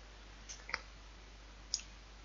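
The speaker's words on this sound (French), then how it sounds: "Je clique sur la première." A computer mouse clicking during spreadsheet work in Excel: a faint soft click, then a sharper double click, and one more crisp click a second later, in a quiet room.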